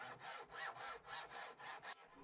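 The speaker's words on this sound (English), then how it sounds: "the joints are cut out using chisels and a coping saw" A coping saw cuts joints in a wooden transom frame for Inami carving work, its blade rasping through the wood in about six steady back-and-forth strokes, close and clear with no talk.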